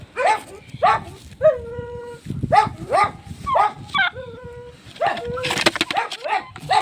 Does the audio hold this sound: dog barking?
yes